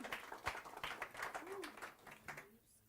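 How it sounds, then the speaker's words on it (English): A small audience at a Docker London tech talk claps together in a steady patter of applause that fades out toward the end. "give a round of applause to Scott"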